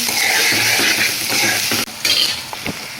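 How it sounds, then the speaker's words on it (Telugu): Onions frying in a pan with ginger garlic paste for paneer bhurji, a loud constant sizzle with scraping stirs and a few clinks of a utensil against the pan. "ఉల్లిపాయలు వేసిన తర్వాత అల్లం వెల్లుల్లి పేస్ట్ వేయాలి."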